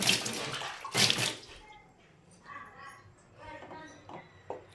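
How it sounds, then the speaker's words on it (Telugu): Water splashes and runs while utensils are washed by hand, with loud gushing bursts at the start and fainter clinks and trickles after, close to the microphone. "ఈ సామాన్లన్నీ కడగాలి"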